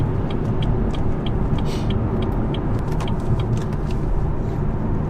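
A BMW 340i driving along a road, a steady close engine and road rumble with tyre roar, no talk over it.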